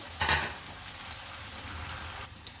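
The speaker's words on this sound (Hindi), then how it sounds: "और साथ में इसमें डालूंगी चिकन, मिक्स चिकन है ये।" Chicken fries in a pan with crushed green chillies and garlic, giving a continuous sizzle with a short louder burst near the start and a few light stirring scrapes.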